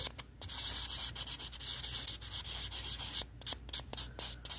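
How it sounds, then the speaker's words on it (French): A yellow buffing block rubbed across a fingernail to smooth away ridges, quiet close scratchy strokes in quick repeated rhythm, soft and alone. "vous allez vraiment aller passer le bloc jaune pour enlever vraiment les stries comme il faut sur votre ongle"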